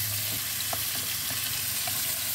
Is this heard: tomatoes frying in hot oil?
yes